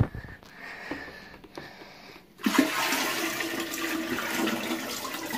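A clogged toilet that has just been plunged is flushed: soft sniffs and small handling noises first, then a loud rushing flush of water that swells and keeps churning to the end.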